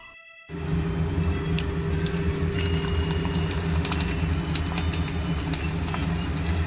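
Rice papad frying over a gas stove in a village kitchen, a steady loud sizzling hiss that starts abruptly and holds evenly throughout, with no talk.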